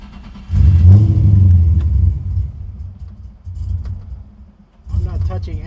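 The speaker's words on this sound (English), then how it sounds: "We just cranked it and it started a sputter." An LS3 V8 swapped into a Nissan 350Z runs roughly just after starting, a loud, close, sputtering low rumble that dips and surges, with people talking over it.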